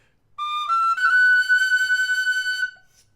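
A Thornton V6 high D whistle sounds a short, pure phrase, first rising then held on a steady note with a gentle pulsing vibrato, clear and near with no other sound.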